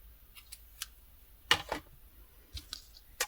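Scissors cutting a piece of crochet yarn: a few quiet, crisp snips, one clearly stronger than the rest, spread unevenly across a near-silent background.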